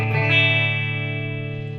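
A Squier Classic Vibe 60s Jazzmaster electric guitar played through a GTX 100 amp on a deluxe reverb setting, one chord strummed and left to ring, bright and full, slowly fading with a reverb tail.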